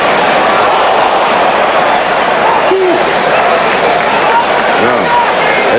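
A packed stadium crowd at a 1991 NFL game, Cleveland at the New York Giants, reacting to a replay on the big screen with a dense, steady roar of voices that holds loud throughout, with a commentator talking over it.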